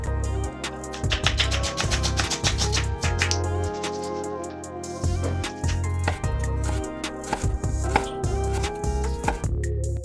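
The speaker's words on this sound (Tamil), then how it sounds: "அப்புறம் ஒரு பெரிய வெங்காயத்தை துண்டு துண்டாக நறுக்கிக்கலாம்" Steady, rhythmic knife chopping through a large onion on a board, quick thuds repeating up close for several seconds.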